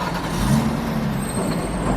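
A truck passes on the road, a broad low rumble and hiss that swells and holds steady, fairly near with no talk.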